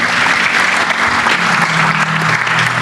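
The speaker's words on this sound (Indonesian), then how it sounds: "Baik, terima kasih, kita tepuk tangan untuk Habib Hussein Jafar Al-Haddad." Audience applause for a religious speaker at an Indonesian talk on mental health, a dense, steady wash of clapping that fills the whole stretch at close, even loudness.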